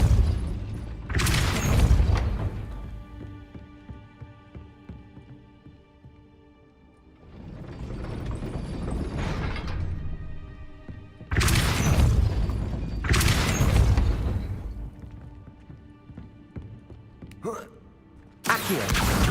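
Depulso spell bursts in the video game Hogwarts Legacy, a few loud booming blasts with low thumps separated by quieter stretches of game ambience and voiced spell casting.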